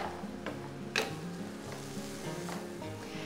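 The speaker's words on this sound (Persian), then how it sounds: "یه دونه پیاز خرد شده رو تف بدید تا سرخ شه." Continuous sizzling of chopped onion frying in a pan for Persian ash soup, with a few sharper stirring scrapes cutting through the hiss.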